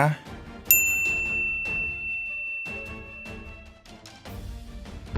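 Bright notification bell dings for a subscribe reminder, a sharp chime ringing out with a sustained tone over a backdrop of music, with several struck accents following.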